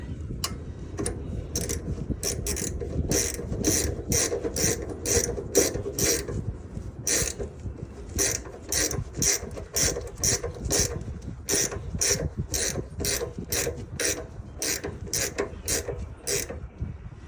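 A hand ratchet clicks in quick, close bursts as it tightens wheel bolts on a Mitsubishi Minicab kei truck. The fast pawl clicking repeats in rhythmic runs with short pauses between strokes.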